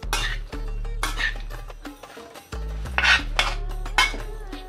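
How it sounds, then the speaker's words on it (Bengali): A spoon scrapes and clinks against a pan on the stove while food is mixed, with repeated close metallic strokes and rasping scrapes in an uneven rhythm and a steady low hum underneath. "আমি চামচ দিয়ে মাখাচ্ছি"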